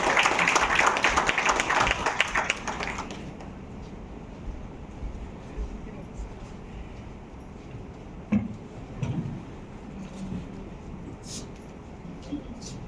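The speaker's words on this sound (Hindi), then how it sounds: "एक और बार जोरदार तालियां हो जाए" Loud, dense applause from an audience at a world record event for BMC singers, filling the first few seconds before dropping away to quiet room noise with a few faint knocks.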